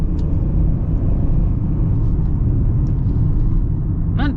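A 2025 Ford Bronco Sport Outer Banks with an 8-speed transmission cruises along, its engine and road noise forming a steady, loud low rumble throughout, broken only by a brief faint chirp near the end.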